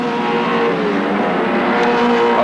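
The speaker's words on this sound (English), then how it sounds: "There's the lusty Holden with Dick Johnson going through, putting a lap on that." A Holden touring car driven by Dick Johnson at the 1990 Australian Touring Car Championship round at Winton roars past, a loud sustained engine drone with a shifting pitch, close and alone.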